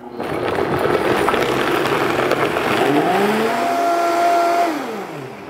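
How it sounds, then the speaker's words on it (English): A powerful Vitamix blender roars loudly and steadily blending cherry glaze, its motor pitch rising and then winding down at the end as it stops. "we're going to toss this in a blender"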